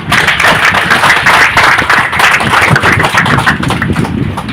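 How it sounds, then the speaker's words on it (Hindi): A crowd at a Delhi public gathering claps loudly on cue, a thick, continuous roar of many hands held at full strength throughout, with low rumbling noise underneath. "एक बार जोरदार ताली।"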